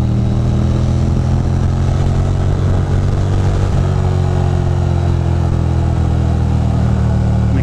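A motorcycle engine drones loudly and steadily on a twisty back road, its pitch dropping slightly partway through as it downshifts, close and continuous with no talk.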